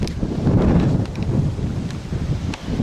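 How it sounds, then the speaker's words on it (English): Strong gusty wind buffets the microphone, a loud continuous low roar with rustling swells and faint crackles. "The wind's really picked up now."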